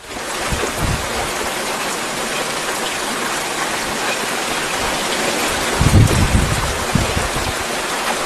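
Steady, heavy rain hisses loudly and evenly throughout, with a few low thumps and rumbles near the end.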